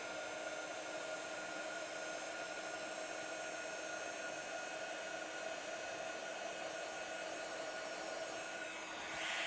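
Steady whooshing roar of a heat tool melting embossing powder over pigment ink on a card, a continuous loud blowing hiss running unbroken throughout with no talking.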